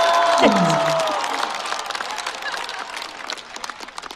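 A crowd claps and cheers loudly, the applause gradually thinning out, with a brief swooping musical sound at the start.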